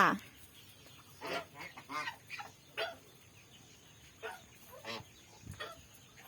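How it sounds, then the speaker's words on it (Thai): Several loud, nasal honks from geese come in separate bursts over a quiet, slightly noisy background, with short gaps between calls. "ห่านเวลาร้องจะเสียงดังกว่าค่ะ"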